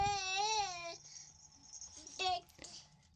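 A newborn infant cries, a wavering wail followed by a pause and then a shorter sob, fairly close and clear over a quiet background.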